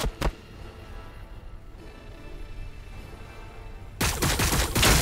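Gunfire in the Warhammer 40k Battle Sector video game, with a brief burst near the start, a low battle rumble through the middle, then a loud dense volley of shots closing the clip.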